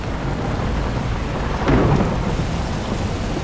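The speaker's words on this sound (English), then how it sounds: "It's freaking raining. Why? Storming tonight." Heavy rain pours steadily in a nighttime thunderstorm, with a thunder rumble swelling midway through the constant hiss; no one speaks.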